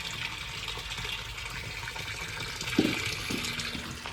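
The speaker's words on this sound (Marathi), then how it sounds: "बोरमधलं पाणी सोडले." Borewell water gushing out as it fills containers, a constant rushing splash with a short knock near the end, no talking.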